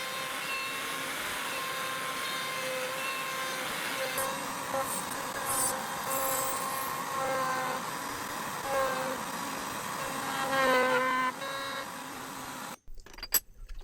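A PantoRouter router cutting a vertical slot or mortise in wood: a loud, steady, high motor whine with shifting cutting tones over many seconds, ending with a sudden stop and a few clunks.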